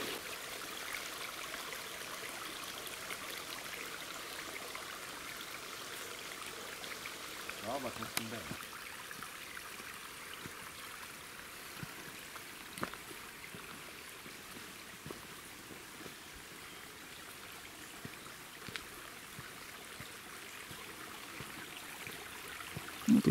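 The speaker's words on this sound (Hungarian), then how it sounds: "Úgy látom, hogy egész hosszan csörgedezik." A shallow spring-fed stream trickles and babbles steadily through muddy ground in the Mátra hills, a continuous close watery rush with a few brief clicks and knocks over it.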